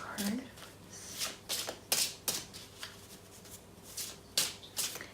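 Tarot cards being shuffled and drawn, with several crisp riffling bursts and flicks spread out, close and fairly loud, and a brief voice near the start.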